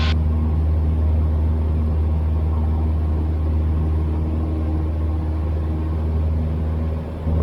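Orange Cessna light aircraft engine droning steadily in flight while entering a right downwind pattern at a private island airpark, a loud, constant low hum filling the cabin throughout with no talk.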